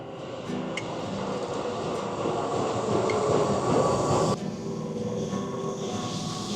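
Train at Fushimi Inari station in Kyoto, a steady loud rumble of rolling wheels and carriage noise that holds throughout, then drops slightly in level near the end as it keeps running.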